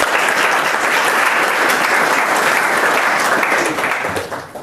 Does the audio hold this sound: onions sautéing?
no